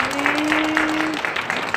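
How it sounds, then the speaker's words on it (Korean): Applause in a church welcoming Pastor Kang Heon-sik of Pyeongtaek Full Gospel Church to the pulpit: a steady, moderately loud wash of clapping runs throughout, with a sustained held tone underneath for most of the clip. "목사님 박수로 모시겠습니다"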